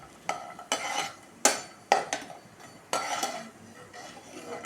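A lump of asafoetida fries in a pan while being stirred: a faint background sizzle under sharp metallic scrapes and clinks of a spoon against the pan, arriving in irregular bursts close by, with no talking.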